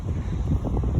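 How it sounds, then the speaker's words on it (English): Gusty wind blows across a microphone outdoors in a free-range chicken and duck yard, a steady low rumble of buffeting that continues without a break and with no voices. "Sorry, it might be a little bit windy."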